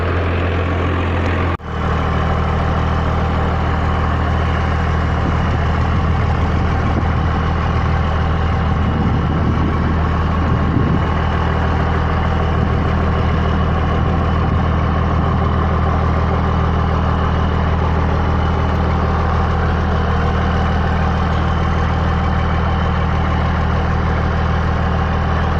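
A Cummins diesel pickup engine idles loudly and steadily, a constant heavy low-pitched clatter and drone that holds for the whole stretch after a brief click near the start, with no talk.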